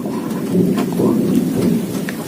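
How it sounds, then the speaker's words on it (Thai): Real thunder and steady rain, a continuous loud wash of rainfall with low rolling rumbles swelling through it, heard alone without voices. "ฟ้าร้องจริงนะคะฟ้าร้องจริงๆนะไม่ได้ใช้เอฟเฟกต์"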